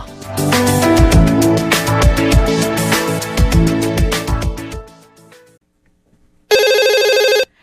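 After several seconds of music and a short silence, a telephone rings for an incoming call, one loud electronic ring burst lasting about a second.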